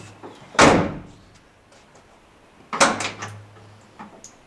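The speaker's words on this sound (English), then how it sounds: "Let's try out the tailgate." The tailgate of a Ram 2500/3500 pickup, fitted with a strut dampener, is lowered with a clear clunk and a release sound, then a second set of clunks and rattles a couple of seconds later, close by.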